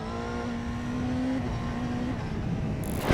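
A racing motorcycle engine drones loud and close as the throttle opens, its pitch climbing slightly and holding steady before easing off near the end.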